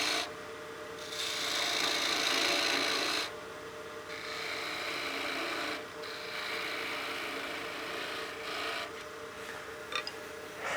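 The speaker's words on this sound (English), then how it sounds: "I'm going to be using my spindle gouge to pare this down as much as possible" Wood on a lathe is pared down with a spindle gouge during box turning, producing a soft continuous rasp broken by short pauses between passes, close-up with no voices.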